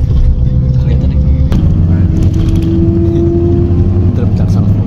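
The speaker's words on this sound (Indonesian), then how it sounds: "saya ini lagi di bus Dubai Freight" Inside a moving bus in Dubai, a loud, steady low engine drone and road rumble fill the cabin continuously.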